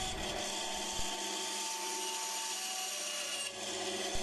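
Hand cutting around the outside of a wooden clock wheel, a steady continuous rasping and scraping of wood, close and fairly quiet, with no talking.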